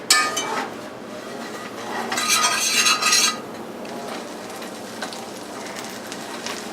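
Butter and eggs sizzling in a skillet for a frittata, a hissing crackle that swells briefly with clinks of utensil against pan, then settles into a quieter steady sizzle.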